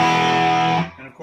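One sustained, distorted electric guitar chord through a Catalinbread Naga Viper overdrive pedal, gain at 12 o'clock, rings out loudly and cuts off abruptly after under a second, leaving a brief quiet tail.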